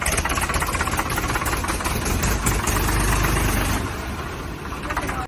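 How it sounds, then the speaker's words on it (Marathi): A Swaraj 855 ProTek tractor with a flat platform idles steadily up close, its diesel engine throbbing in a dense, even low rumble that holds for the whole stretch before easing slightly near the end. "या ट्रॅक्टरचा आवाज दाखव"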